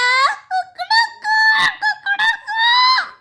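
Rooster crowing in Sakura School Simulator, a loud, close, tonal cock-a-doodle call broken into several wavering, honking phrases with no talk over it.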